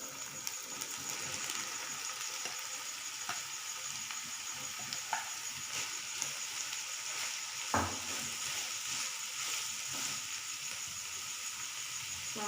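Minced meat frying with softened onions and ginger-garlic paste in a pan, a faint continuous sizzle and hiss with light stirring clicks and one sharper knock, no voices.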